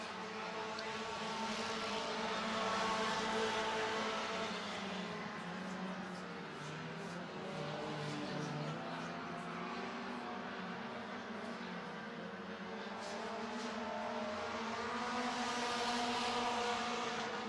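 Race cars in a 4-cylinder feature race on a racetrack roar continuously at a distance, the engine drone swelling and fading as the pack circles through lap traffic, with an announcer talking over it.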